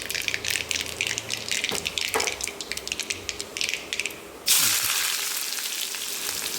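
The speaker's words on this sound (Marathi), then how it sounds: "आता आपण ह्याच्यामध्ये अगोदर सगळ्याच्या अगोदर कांदा टाकतो. कांदा आणि हिरवी मिरची टाकायची आपल्याला" Onion and green chilli frying in a pan, heard as a close crackling sizzle with scattered pops for several seconds, then a sudden louder steady rush of hissing.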